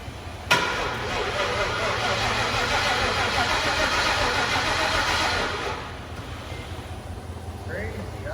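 A car engine cranking slowly with jumper cables and a battery charger hooked up, a loud continuous labored churning for several seconds that then drops off, leaving quieter noise.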